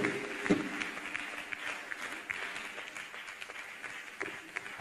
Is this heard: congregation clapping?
yes